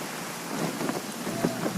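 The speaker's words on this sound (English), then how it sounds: "Let us find shelter from the rain." Rain pours in the video game Genshin Impact, a dense, even hiss of falling water with a few louder drop spatters, heard alone with no talk.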